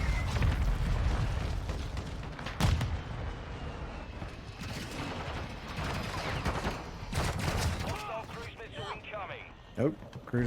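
A cruise missile strike explodes in Modern Warfare II, heard as a dense roar of blasts and rumbling battlefield gunfire layered under in-game radio chatter.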